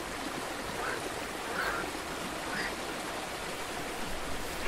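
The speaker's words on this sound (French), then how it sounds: "c'est la Sorgue, la plus paisible des rivières" Steady, rushing flow of the Sorgue, a calm, clear river near its spring, forming an even wash of water noise throughout, with a few faint chirps in the background and no talking.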